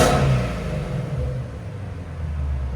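A Ford Mustang GT350 with the 5.2L Voodoo V8 and an X-pipe exhaust rumbles loudly and close, a deep throbbing burble dipping and swelling slightly with no talk over it.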